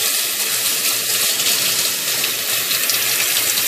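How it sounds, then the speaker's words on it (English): Tap water runs steadily over a pet drinking fountain filter and its parts during rinsing, a continuous close splashing gush with no pauses and no talking. "so we rinsed out the filter, and we also just gave a quick rinse to the pieces"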